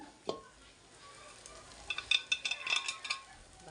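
Leftover rice tipped into a pan of salted, spiced egg mixture and stirred, a faint low sizzle broken by a run of quick metallic spoon clinks and scrapes toward the end.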